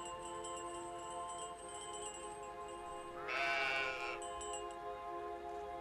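A single sheep bleat, a wavering nasal cry lasting about a second midway, rising above a quiet background of steady tonal game music.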